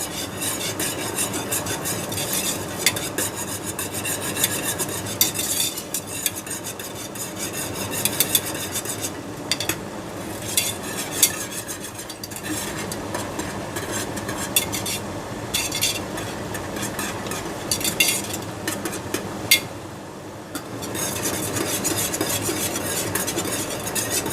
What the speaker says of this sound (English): I really need a longer whisk so my hand doesn't get so hot.